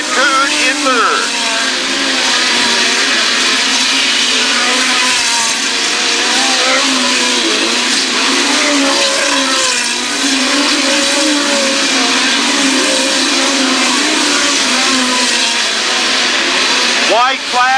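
Midget race cars lap US 36 Raceway in a continuous loud engine roar with rising and falling revving passes, close and dense throughout, under a race announcer's commentary.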